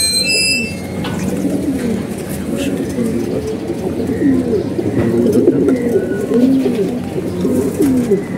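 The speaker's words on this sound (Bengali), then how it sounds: "এই কবুতরটা" Domestic racing pigeons coo in soft, repeated throaty rolls close by, a continuous low burbling with a voice faintly present alongside.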